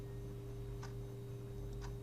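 Quiet mouse clicks during a PowerPoint lesson, two or three sharp, faint ticks spaced about a second apart over a steady electrical hum, with no voices.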